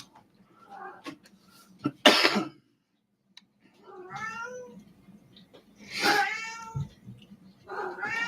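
A house cat meows several times at close range, drawn-out rising and falling calls separated by pauses, with a few coughs, throat clearing and sharp noises in between.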